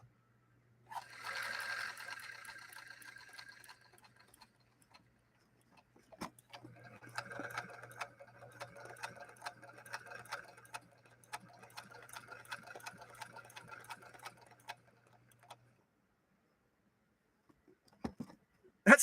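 A Singer Featherweight sewing machine stitches leather in short bursts of rapid mechanical clatter, starting, stalling and restarting, with a low motor hum running beneath for most of the stretch; a few faint clicks follow once it stops.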